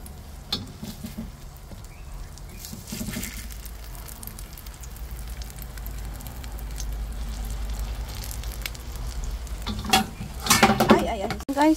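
Cherry tomatoes frying in oil in a pan while being stirred, a steady low sizzle with scraping and clinks of a utensil against the pan, growing busier toward the end, close by with no talk.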